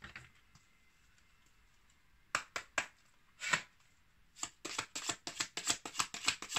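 Oracle cards riffled and flipped over, a few separate crisp snaps followed by a rapid run of papery clicks, close and fairly loud, with no talk.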